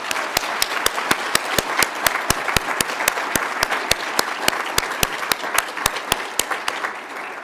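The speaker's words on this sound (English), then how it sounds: "Round of applause, please." Audience at a nursing pinning ceremony clapping: a steady crowd applause with sharp, evenly spaced claps standing out throughout, sustained at moderate volume without pause.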